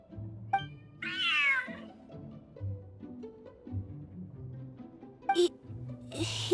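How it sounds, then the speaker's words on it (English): Cat meowing in the video game Genshin Impact: one clear, drawn-out meow early on, with soft game music and ambience underneath and a few short chimes and bright effect sounds later. "Whoa, this cat is way bigger than the others."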